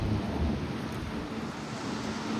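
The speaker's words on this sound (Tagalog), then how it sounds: "Ang lakas ng ulan. Ang lakas ng ulan." Heavy rain pours steadily in a dense, unbroken roar with low rumbling underneath, loud and close, at an outdoor fishing spot.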